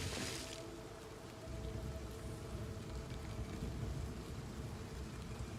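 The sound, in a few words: rain in video game Oblivion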